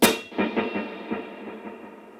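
Clean electric guitar note with chorus, modulated reverb and a dual delay set to eighth and dotted-eighth repeats, struck once sharply and followed by a trail of quieter rhythmic echoes fading away into a reverb wash.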